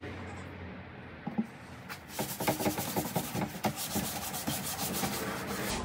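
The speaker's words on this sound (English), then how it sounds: "So this is just acetone to remove like the main gluey part of it" Acetone rubbed by hand over a fibreglass fairing of a racing lawnmower to lift old glue, close scrubbing strokes that start sparse and become steady, dense friction.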